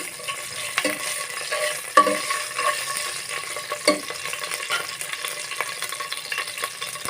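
Spice paste with dried red chillies stirred and fried in oil for a rohu fish curry, a steady close sizzle broken by sharp spatula scrapes against the pan at irregular intervals, no voices.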